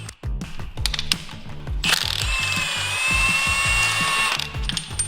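A ratchet wrench clicks rapidly in short bursts while undoing gearbox bolts on a VW Fox, with a whirring power tool joining midway, close and loud in a workshop.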